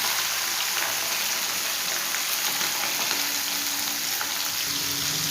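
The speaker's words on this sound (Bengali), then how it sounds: "এবারে চলুন একে একে মাছগুলো ভেজে নিই।" Chela fish sizzling in hot oil in a pan, a steady dense crackle and hiss that runs on without a break at close range, with no voices over it.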